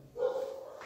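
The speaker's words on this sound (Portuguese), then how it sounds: "perdão pelo latido dos cachorros." A single short bark, close and fairly loud, lasting under a second.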